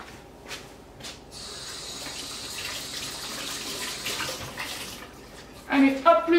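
A cleaning cloth is rinsed under a running kitchen tap, water splashing steadily for several seconds, with a brief voice near the end.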